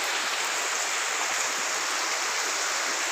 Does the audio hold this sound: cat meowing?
no